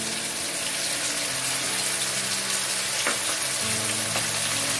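Tomatoes with garlic-ginger paste fry in a pan, giving a steady, dense sizzle that holds throughout with a couple of brief clinks or stirring touches and no talking.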